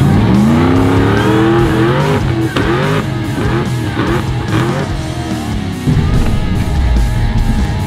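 An off-road vehicle in high range, first gear with lockers engaged strains in a petrol versus diesel tug of war, its engine loud and close as it revs hard continuously.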